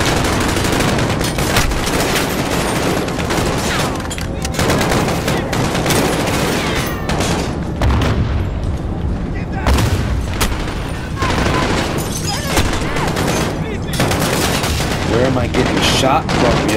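Sustained automatic gunfire and bursts of shots in a Call of Duty Modern Warfare firefight, loud and continuous throughout, with brief voices under the shooting.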